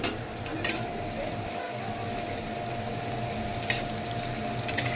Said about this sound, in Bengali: পেঁয়াজগুলো লাল লাল করে ভেজে নিচ্ছি।